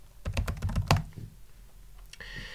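Fast, close keystrokes on a computer keyboard as a sudo password is typed at a Linux terminal during Apache setup, a dense burst of clicks followed by a quieter stretch with faint hiss.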